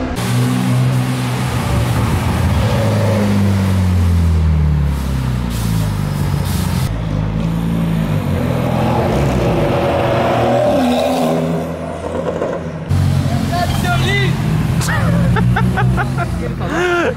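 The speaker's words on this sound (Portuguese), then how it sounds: "Esse carro, mano, que ronco perfeito." A Toyota Supra with a 2JZ engine revs loudly and steadily, its deep drone rising and falling close by, while someone talks over it.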